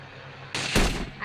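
AWM sniper rifle firing in a shooting video game, one sharp, loud blast that cuts in suddenly and rings out briefly with a trailing echo, no speech over it.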